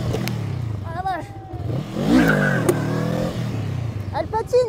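Honda 500 Rebel custom motorcycle revving hard with its rear wheel spinning and slipping, a loud, rising-and-falling engine roar close by, mixed with excited voices talking over it.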